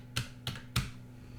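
Computer keyboard typing an IP address on a PC: three sharp, distinct key presses spaced evenly about a third of a second apart over a faint background hum.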